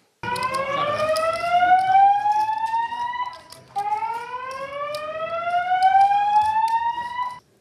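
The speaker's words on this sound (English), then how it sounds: "We then get the alarm going off" A loud electronic alarm at a casino poker table sweeps upward in two long rising wails, each climbing steadily before dropping and starting again, with a brief gap between them.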